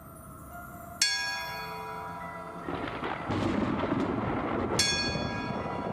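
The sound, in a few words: bell being rung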